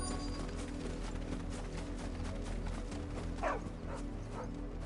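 Dog barking in Final Fantasy XVI, a few faint, short barks and yips rising briefly near the middle over a steady background of game ambience and music.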